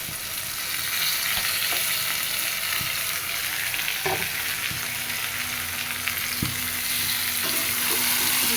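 Rohu fish heads fry in a pan with spiced masala, giving a dense, continuous close sizzle with occasional spatula taps and scrapes throughout.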